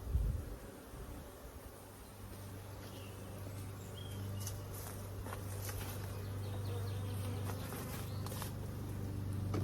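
Honey bees hum around a hive during a split, a faint steady drone with a low sustained tone and scattered buzzing passes of individual bees, quiet and outdoors, without speech.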